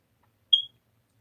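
A recharging device gives a single short, high electronic beep in near silence, brief and clear.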